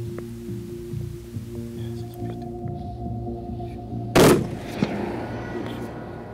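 A single sharp rifle shot cracks out during a mouflon hunt in Macedonia, loud and close, standing out against quiet outdoor background hum and followed by a faint softer knock.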